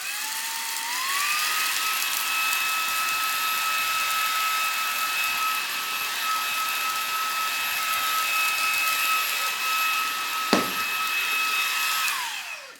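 A Xiaomi Mi Vacuum Cleaner Mini fitted with a crevice nozzle runs with a steady, close, high-pitched whine for about twelve seconds. A brief click sounds near the end before the motor winds down.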